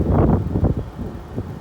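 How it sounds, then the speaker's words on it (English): Strong gusts ahead of Hurricane Dorian buffet the microphone in low, rumbling bursts, close and fairly loud, fading slightly toward the end. "Yeah, the wind has picked up"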